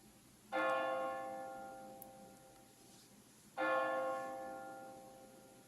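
Two tolls from a Verdin 720 digital carillon church bell, program 813, each struck sharply and left ringing with a long fading hum, about three seconds apart, alone without voices.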